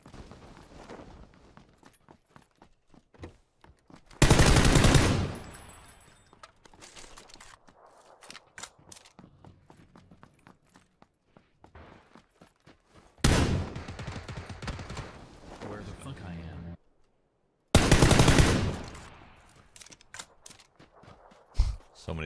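In the video game PUBG, loud bursts of gunfire break in at intervals, three dense volleys of rapid shots with sparse clicks and quieter pops between them.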